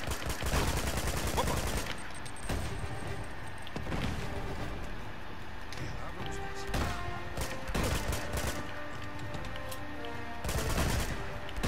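Video game gunfire in Uncharted 2: Among Thieves, rapid automatic bursts and single loud shots in clustered volleys with brief pauses, close and loud over a rumbling battle background, no talking.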